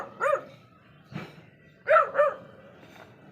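A dog barks several times nearby, two single barks, then a quick double bark after a short gap, ending with a fainter yip, with no talking.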